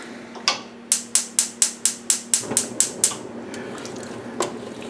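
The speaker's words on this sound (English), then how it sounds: "stir continuously until it comes to a rolling boil" Wild blueberry jam mixture with lemon juice stirred in a pot over heat: a rapid run of about ten sharp, ringing spoon knocks against the pot, then a single later tap.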